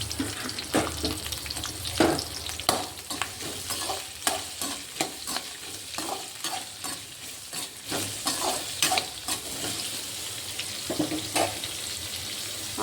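Onions sizzle in hot oil in a pan while being stirred, a constant soft hiss broken by repeated scraping and clattering stir strokes, with no talking.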